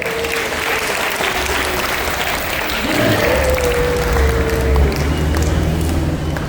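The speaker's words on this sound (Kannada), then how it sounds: "ಅವ್ರಿಗೂ ಕೂಡ ಜೋರು ಚಪ್ಪಾಳೆ." A school event audience gives loud sustained applause, dense clapping from many hands that swells slightly midway and carries on to the end.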